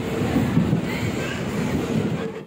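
A local train runs between Kalwa and Mumbra in Mumbai, heard from an open doorway. It gives a steady, loud rumble of wheels and wind with faint rail clatter, continuous and close throughout.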